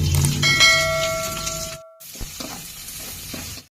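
Onions with curry leaves stirred into hot oil in a home kitchen, a steady close sizzle and hiss with a brief ringing tone early on, then a short gap before scraping stirs resume over the frying.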